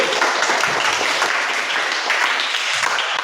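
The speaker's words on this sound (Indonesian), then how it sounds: "mari kita tepuk tangan kepada kelompok 1 dulu" A classroom audience applauds a student group steadily with dense, continuous clapping throughout, fairly loud and close.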